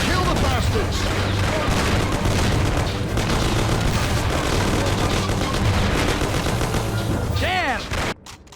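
Shootout gunfire in Mafia (2002), continuous loud bursts of shots and booms with shouted voices mixed in, ending abruptly near the close.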